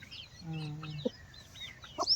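A rooster in a rural Telugu village yard gives a short burst of clucking and calling, with a few clear close notes over quiet background and a faint voice nearby.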